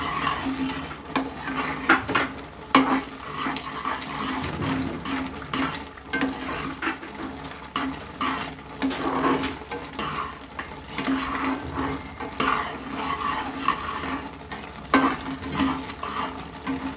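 Kalakand mixture being stirred with ghee in a pan, with steady spoon scraping and clinks against the metal running throughout, a soft frying hiss underneath and no talking.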